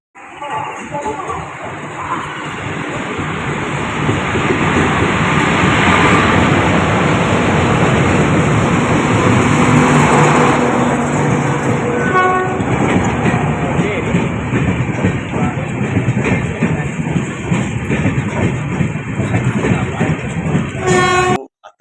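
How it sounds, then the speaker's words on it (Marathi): The Sawantwadi–Diva Express holiday special pulls into a Konkan Railway station platform, a loud continuous rumble of rolling wheels and carriages passing close, with a high electric whine, rhythmic rail clacks and brief horn toots, voices around. "आता हे जाईल त्यानंतर मला वाटतं या आपल्या प्लॅटफॉर्मला येईल आपली सावंतवाडी दिवा एक्सप्रेस हॉलिडे स्पेशल"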